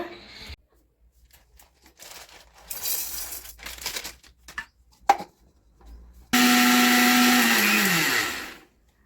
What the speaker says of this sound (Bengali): গোলমরিচ কিনে এনেছিলাম তো এটাকে আমি গুঁড়ো করে নেব